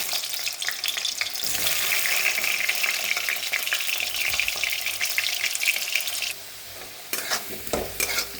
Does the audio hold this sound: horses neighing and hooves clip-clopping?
no